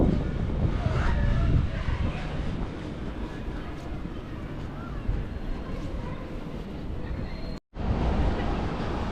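A tram rolls through a Nottingham city-centre square lined with old buildings, a loud, steady rumble with wind buffeting the microphone that holds for several seconds and cuts out briefly near the end.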